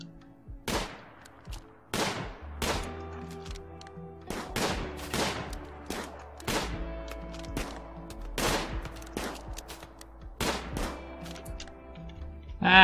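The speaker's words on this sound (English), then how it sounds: "The guy's coming, so start shooting people." Gunfire in the video game RimWorld, a series of sharp, loud shots spaced irregularly a second or two apart, each with a ringing tail, over a low steady game tone with no voices.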